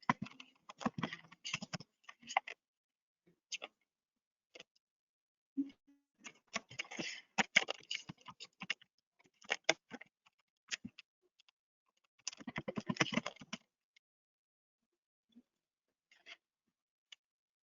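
Bursts of typing on a computer keyboard while a username, password and date of birth are entered to log in to an online trading portal, quick clustered keystrokes separated by short pauses, close and fairly quiet.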